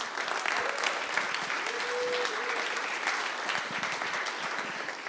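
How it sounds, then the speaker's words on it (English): An audience in a library applauds the staff before a history talk, with steady, moderately loud clapping that continues evenly without a break. "I'd like to first just give a round of applause to Natalie and the wonderful staff here at the library for having us"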